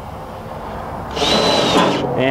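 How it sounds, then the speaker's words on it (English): A power drill whirs up briefly, its whine climbing as it drives a self-drilling screw into a solar sign light control box, then eases off for a moment. "using the provided self-drilling screws"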